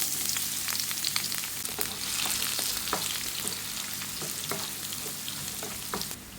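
Coconut pieces frying in hot coconut oil in a pan, a continuous close sizzle with scattered crackles and occasional stirring scrapes, steady throughout with no voices.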